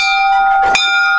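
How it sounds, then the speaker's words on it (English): A single bell is rung by pulling its rope and gives one clear metallic strike whose bright, ringing tones carry on and hang in the air at close range. "I can stand here all day pulling the bell."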